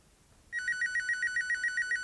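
A telephone rings on stage during a live theatre show, starting after a quiet half second and repeating as a rapid, regular electronic trill of short bright bursts, loud and alone with no talking.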